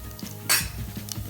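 A utensil stirs cumin seeds and urad dal in a pan, giving a soft scraping rustle with one sharper metallic scrape and faint clinks, close and quiet with no talking.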